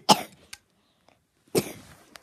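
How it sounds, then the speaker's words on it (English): A person gives two short bursts of coughing about a second and a half apart, each sharp, close and fairly loud, with near silence between them and no talk. "my coughing issue just got a bit too far"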